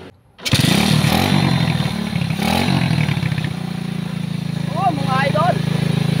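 A troubled motorcycle with a rough, stalling engine fires up at once after a brief quiet start, then idles and revs loudly and steadily close by while someone talks over it.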